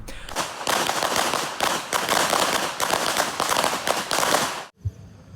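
Handgun shots at a combat shooting range, heard as rapid bursts of sharp cracks following one another with short gaps, then a sudden stop near the end and quiet afterwards.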